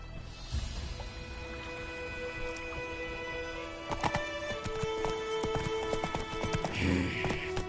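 Roach the horse gallops in The Witcher 3 with steady, rhythmic clip-clop hoofbeats close by, a brief whinny near the end, over game music and ambience.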